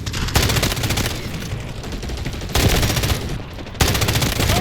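Rapid automatic gunfire in a video game rattles through bursts, loud dense cracks repeating in quick succession with brief pauses between volleys.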